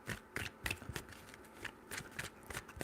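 A tarot deck is shuffled by hand in a few quick bursts of papery riffling and soft card slaps, close and quiet, with brief pauses between bursts.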